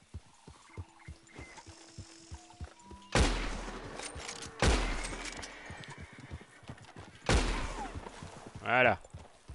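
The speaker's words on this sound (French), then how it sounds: "On va utiliser la carabine et puis on va achever les bestiaux plus rapidement pour qu'ils ne souffrent pas" In Red Dead Redemption 2, three loud carbine rifle shots are fired a second or two apart to finish off wounded livestock. A voice talks throughout, with faint hoof clops in between.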